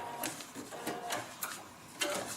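A sewing machine stitches paper-pieced log cabin heart quilt pieces, giving several short mechanical bursts of clattering needle runs with brief pauses between them, close by and moderately loud, with no one talking.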